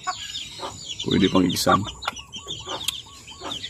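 Hens cluck on a small Filipino chicken farm with chicks, several short clucks scattered through the moment, mixed with someone talking nearby.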